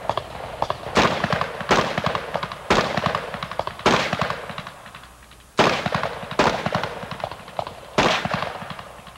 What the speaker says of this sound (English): Detective Worth is going to shoot that right here